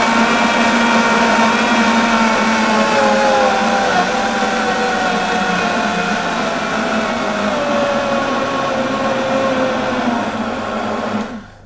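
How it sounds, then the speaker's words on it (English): An Optimum blender runs on low speed blending bananas for a thick shake, a loud continuous whirring motor hum that holds steady for about eleven seconds before cutting off abruptly at the end. "Make sure your blender's on low, flick it on."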